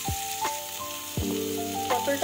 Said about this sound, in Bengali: গ্যাসের ফ্লেমটা বাড়িয়ে দিয়ে এবারে পটলটাকে একটু ভালো করে ভেজে নিতে হবে।